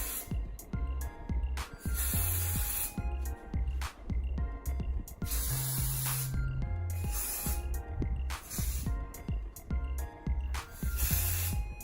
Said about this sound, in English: I'm going to take my spray and just